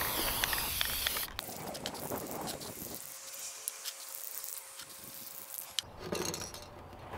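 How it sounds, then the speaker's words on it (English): High-temperature spray paint hisses out in a loud, steady stream onto a metal paint can, with short bursts and a brief pause partway through. "I'm going to give it a coat of some high temperature spray paint."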